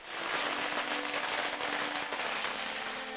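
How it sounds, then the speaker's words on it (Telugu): Loud Diwali firecrackers and crackling bombs bursting in the streets, a dense continuous crackle and roar of explosions that fills the whole moment without pause. "యువత కూడా బాగా ఎక్కువ శబ్దాలు వచ్చే టపాసులు బాంబుల్ని పేలుస్తుంటారు"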